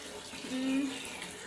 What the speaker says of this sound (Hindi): पानी भी आ चुका है, ये देखिए